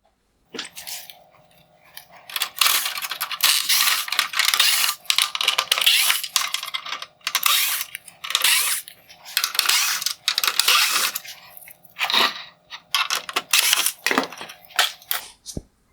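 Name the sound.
unscrewing T20 Torx screws from Mercedes GLS550 headlight bezel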